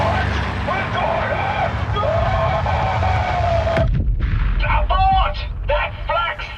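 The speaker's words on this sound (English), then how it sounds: "That flak's thick enough to walk on!" Anti-aircraft flak fire in Sniper Elite: Resistance booms as heavy, dense bursts under loud aircraft engine drone, with voices shouting over the barrage.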